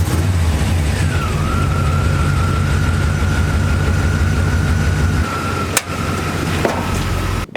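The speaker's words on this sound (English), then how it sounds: "We can go start the engine." A car engine idles steadily right after an oil change, a close, continuous low rumble with a thin, constant whine above it and a couple of sharp clicks near the end.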